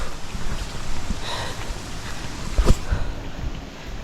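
Strong gusts buffet the microphone in a rough, low rumble, with a sharper blast near the middle; no talking.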